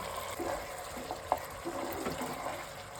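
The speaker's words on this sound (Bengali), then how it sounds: "এরপর আমি জল দিয়ে দিচ্ছি, পরিমাণ মতো জল দিচ্ছি।" Water poured into a mustard and sour yogurt curry gravy in a cooking pot, a soft steady rushing pour with a faint splash partway through, quiet and close with no voices.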